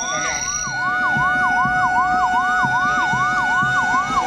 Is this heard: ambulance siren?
yes